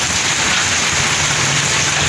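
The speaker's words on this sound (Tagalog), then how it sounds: "Sobrang lakas ng ulan." Heavy rain pours down in a loud, dense, constant hiss of drops striking surfaces nearby, unbroken from start to finish.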